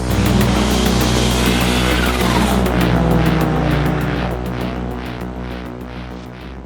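A 900-horsepower Mitsubishi Evo accelerates hard: a loud, raspy engine roar climbs through the gears, then fades as the car moves off, with a short sharp knock right at the end.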